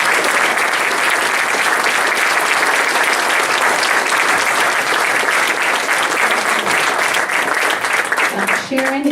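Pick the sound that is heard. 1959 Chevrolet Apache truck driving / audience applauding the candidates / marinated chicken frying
audience applauding the candidates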